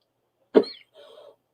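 A single sharp cough up close, followed by a short throaty rasp, then quiet.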